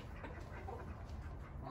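Chickens and a rooster settle in a coop at night, with soft clucks and low murmuring calls over a quiet, steady background, faint and close.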